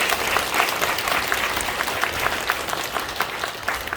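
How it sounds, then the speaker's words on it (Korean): A church congregation applauds to bless two newly installed elders at a 45th-anniversary ordination service at Gwangeum Church; dense, even clapping from a large crowd continues throughout. "박수로 축복하도록 하겠습니다"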